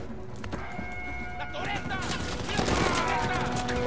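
Machine gun fire in the game Uncharted 4: A Thief's End, heard as dense bursts under game noise that grow louder in the second half, with a voice talking over it.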